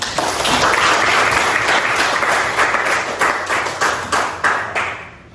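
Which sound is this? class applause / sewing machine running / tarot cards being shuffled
class applause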